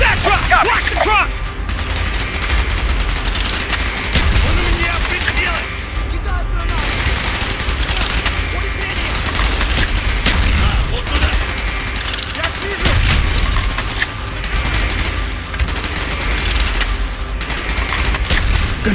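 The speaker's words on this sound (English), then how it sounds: "Gunfire's drawing attention." Sustained bursts of gunfire in the video game Call of Duty: Black Ops crackle and rattle almost without pause, with heavier booms mixed in and shouted voices underneath.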